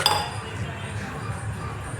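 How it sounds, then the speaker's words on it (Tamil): A cooking pot is set down on a kitchen stove while preparing a Tamil buttermilk curry with ash gourd, giving a single bright metallic clink at the start that fades into quiet kitchen background. "ஒரு பாத்திரம் வச்சு"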